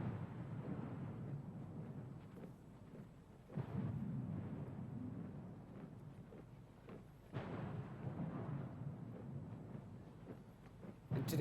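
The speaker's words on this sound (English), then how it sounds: "Today's gun salutes honor those who gave their lives for peace." Deep, distant booms of ceremonial artillery firing a gun salute at a Chinese military parade, several rumbling blasts spaced a few seconds apart over a low outdoor hum.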